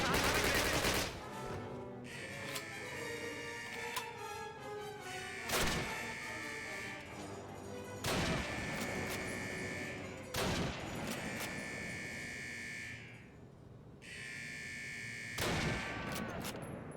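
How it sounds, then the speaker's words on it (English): Gunfire from the 2003 Call of Duty video game: sharp bursts of automatic weapon fire, some single cracks, recurring every couple of seconds at moderate level with ringing tails between shots. "I can't see who I'm shooting at."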